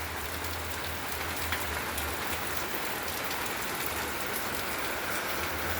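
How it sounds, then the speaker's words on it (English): Heavy rain pours down steadily, a dense, constant wash of drops drumming on a surface, with a low hum underneath. "it is actually raining fairly hard"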